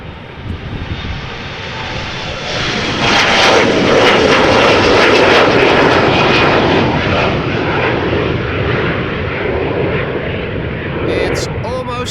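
A small business jet roars past at Amsterdam Schiphol Airport, its engine noise swelling loud and broadband, holding steady, then easing slightly, with wind buffeting the microphone.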